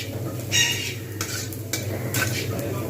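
Moong dal fries in a pan for a cabbage and moong dal dish, with a low sizzle and a few distinct spatula scrapes and clinks against the pan, close and fairly loud.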